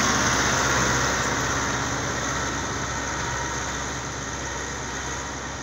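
A Euro Ford 5880 tractor fitted with a deep cultivator runs at a steady moderate speed of about 1600 to 1700 rpm, a continuous close engine drone with low rumble that eases slightly over several seconds, no voices.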